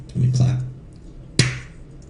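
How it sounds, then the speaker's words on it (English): A single sharp hand clap marks a mistake during an audio recording, ringing out once after a short stretch of a voice, close and crisp against a quiet room. "Let me clap."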